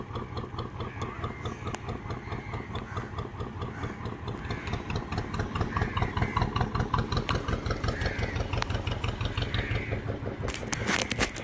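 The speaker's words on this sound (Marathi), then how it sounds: "आता ही बोट आतमध्ये एंटर होत आहे" A boat engine runs with a steady, pulsing mid-to-low throb as the boat enters a harbour at a village port, loud and continuous throughout, with a sharp scrape or knock near the end.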